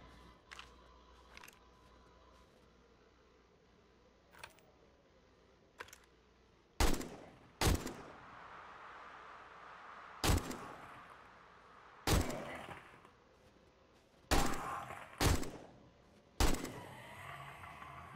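Gunshots in the video game 7 Days to Die, a handful of sharp, loud single reports spaced irregularly, some in quick pairs, with quieter clicks and movement sounds between them.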